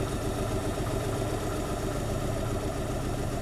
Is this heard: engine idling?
yes